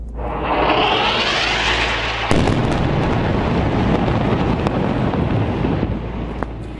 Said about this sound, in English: Explosions and fighter planes filling the sky